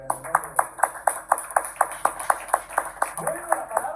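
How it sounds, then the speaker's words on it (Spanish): A church congregation claps in a steady, even rhythm during a Spanish-language worship service, sharp hand claps repeating about twice a second while a preacher's voice carries over them. "Denle palmas al Señor en el nombre de Dios."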